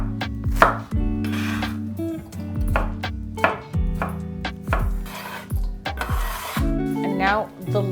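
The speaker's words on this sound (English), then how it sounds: "chop the onion and the tomato" Onion and tomato being chopped with a knife on a board, a series of close, sharp irregular chops over a resonant tonal background.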